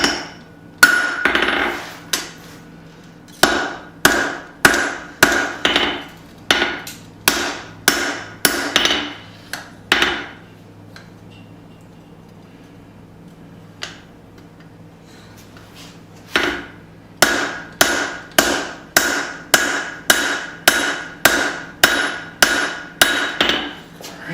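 Hot steel is struck on an anvil while a small claw hammer is forged, in two long runs of loud, evenly paced ringing hammer blows separated by a quiet pause of several seconds.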